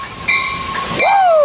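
Train number 598 passes Fullerton station, a steady loud rumble with a rising horn-like tone sweeping down near the end, close by and sustained, with voices faintly present.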